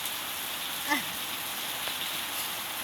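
Heavy rain pours down in a dense, steady wash of noise for the whole stretch. A faint cat-like cry rises briefly near the start.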